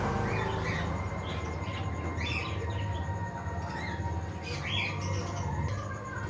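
Caged birds call in a pet shop that also sells aquarium fish, a mix of short squawks and chirps scattered over a constant busy background hum, moderately near, with no speech.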